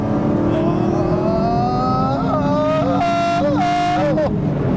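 A BMW E36 engine revs hard and accelerates, rising harmonic tones climbing and dropping with gear changes, loud and close throughout, with brief shifts near the end.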